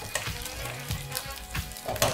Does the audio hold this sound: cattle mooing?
no